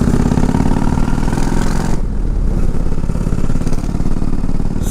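A motorcycle engine roars loudly and steadily close by, revving hard before the pitch drops and it keeps droning on.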